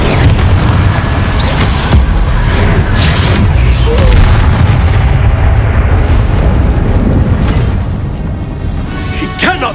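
Confringo spell blasts from a Harry Potter video game thunder as dense, loud explosive booms amid layered battle noise and music, with a voice talking in the mix.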